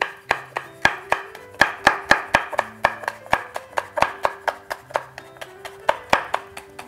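A knife chopping peppers on a cutting board, with quick, evenly spaced sharp taps close by, around two dozen cuts, clear and uninterrupted by talk.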